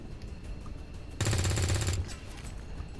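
Burst of rapid automatic gunfire from the XCOM 2 video game, a dense rattling volley lasting under a second, loud against a steady game-audio background with no talk.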